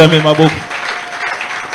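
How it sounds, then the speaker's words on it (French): A congregation at a Sunday church service breaks into applause and cheering for the Lord, a dense wash of clapping and voices that swells right after a brief spoken line. "Est-ce que tu peux acclamer très fort pour le Seigneur?"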